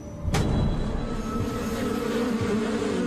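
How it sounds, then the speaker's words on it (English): Swarm of bees buzzing loudly and continuously around a head, a dense droning hum that starts abruptly and holds steady throughout. "The bees stay around the head."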